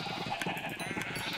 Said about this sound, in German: Habt ihr die kleine Armee von Schäfchen gesehen?